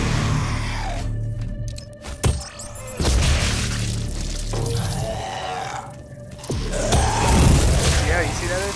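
A grenade blast in the Doom shooter game on Ultra Violence difficulty: a sharp boom around two seconds in, amid other game thumps, rumbles and effects, with someone talking over the action.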